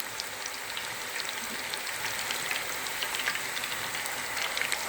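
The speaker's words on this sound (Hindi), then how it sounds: "ऑयल हमारा गर्म हो चुका है। तो अब हम इसमें अपने कोफ्ते डालेंगे।" Beef koftas fry in hot oil over a low flame with a soft, steady crackling sizzle and scattered pops, faint and close, with no talking.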